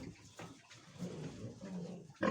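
A sow in a farrowing pen gives low, soft grunts close by, ending with a louder snort.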